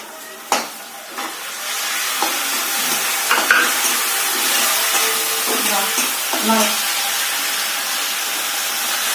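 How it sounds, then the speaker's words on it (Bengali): Sliced onion, ginger-garlic paste and spices stir-fry in a pan for a Bengali potato chicken dish, with a continuous sizzle and a spatula's repeated scraping strokes and knocks against the pan. "কষাও, ভালো করে কষাও।"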